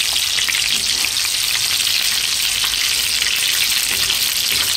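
Mutton and potato koftas browning in hot oil, a steady, dense sizzle and crackle of deep frying that holds at an even, close level throughout, with no voices.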